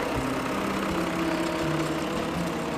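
A Standard Fordson tractor engine idles in an even, low, chugging rhythm, moderately close and steady, with no voices.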